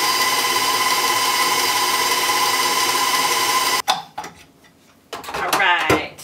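Electric mixer beating brownie batter, a steady loud motor whir running alone for several seconds before cutting off abruptly, followed by a few scraping knocks in the bowl and a short burst of noise.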